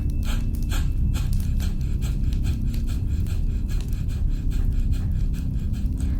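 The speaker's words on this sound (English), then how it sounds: "So that is short, quick exhalation with a passive inhalation." Breathwork with soft passive inhalations and short, forceful exhalations pushed from the core, a quick regular series of sharp breath puffs heard up close over a steady low hum, with no talking.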